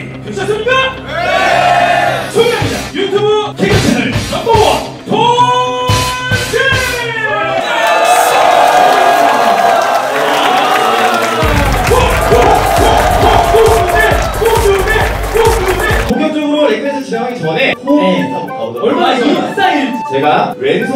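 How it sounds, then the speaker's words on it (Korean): Students at a freshman MT event cheering, whooping and clapping in a loud, sustained roar, with shouted voices over it, swelling in the middle before the noise drops and talk resumes. "여러분 저희 등장하면 큰 박수와 함성으로 환영해 주실 거죠?"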